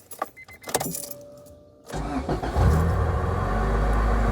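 A Honda Integra engine cranks and catches, then settles into a loud, steady idle after a few quiet knocks and clicks.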